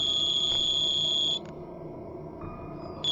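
A phone rings in a Hindi film scene, a thin electronic tone that trills for about a second and a half, stops, then briefly returns near the end over a low background hum.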